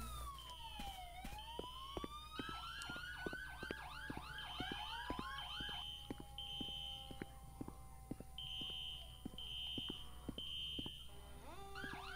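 Fire engine and ambulance sirens wail and yelp together in a Roblox Florida roleplay game, with rising and falling electronic tones overlapping steady high beeps and clicks, loud and continuous with no talking.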